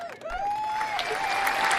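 Morning-show hosts cheer with a brief round of clapping, while a bright, sliding whoop or whistle rings out over the hands. Short, close and lively.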